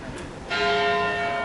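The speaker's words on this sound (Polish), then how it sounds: "O, jeszcze te dzwony." A bell of Szeged Cathedral in Hungary strikes once at 7:45 with a bright, ringing tone that hangs and slowly decays, heard from a moderate distance.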